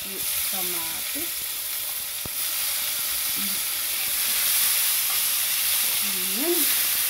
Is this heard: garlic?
yes